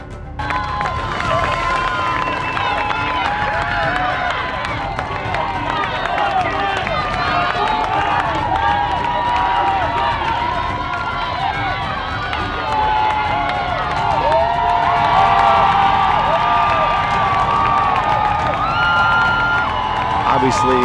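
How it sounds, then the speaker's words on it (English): A large crowd cheers, whoops and shouts continuously as people surge up the steps of the U.S. Capitol, a dense, sustained roar with many voices close by and all around. "And here comes the crowd"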